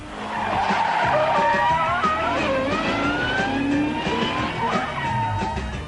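Loud, sustained tyre squeal from a skidding car, wavering high-pitched shrieks layered over rumbling engine and road noise for the whole stretch.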